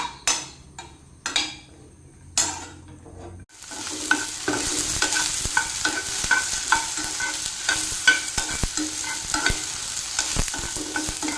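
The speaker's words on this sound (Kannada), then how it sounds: "ಸ್ವಲ್ಪ ಎಣ್ಣೆ ಹಾಕಿ ಫ್ರೈ ಮಾಡೋದು" Vegetables frying in a little oil in a pan, several sharp spatula knocks at first, then a steady loud sizzle with repeated stirring scrapes and taps throughout.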